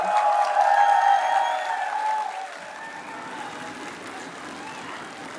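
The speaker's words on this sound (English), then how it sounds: "May we have a big round of applause for all of them" Applause at a college cultural festival inaugural ceremony, clapping with a sustained tone ringing over it at first, then fading to softer, thinner clapping as the tone stops.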